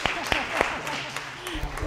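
A church congregation begins applauding to welcome a new member, with a few sparse, scattered claps and voices talking underneath.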